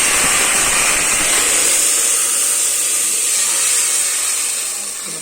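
Water hits a hot mustard-seed and cumin tempering in a pan, setting off a loud, close, sustained steamy hiss that fades slightly toward the end.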